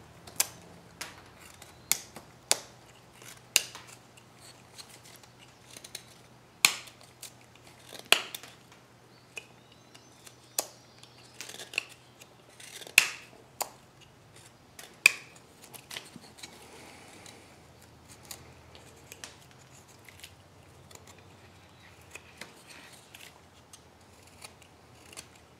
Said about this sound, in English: first thing we're going to do is cut the quill.